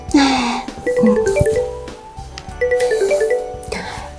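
An electronic phone ringtone melody in a video game repeats in a bright, chirpy pattern, loud and close, with voices talking over it.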